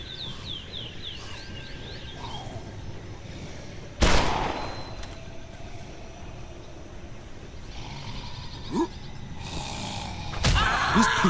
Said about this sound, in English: I use my gun